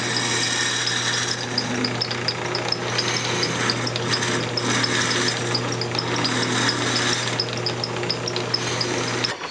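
A wood lathe spins steadily while a turning tool rides down a cocobolo wood box, a continuous close hum with a faint scraping cutting texture running evenly throughout, no talking.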